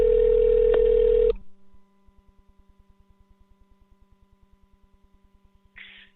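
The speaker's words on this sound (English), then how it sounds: "bringing on Makia Freeman, dialing in right now." A telephone call connecting on a call-in show: a loud steady tone cuts off, then a long train of quiet, evenly spaced electronic ticks or pulses follows, ending with a brief burst of line noise.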